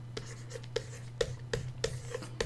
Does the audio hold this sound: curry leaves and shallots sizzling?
no